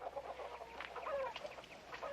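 Chickens at a hen house cluck in quiet, scattered bursts, faint and somewhat distant, with no voices over them.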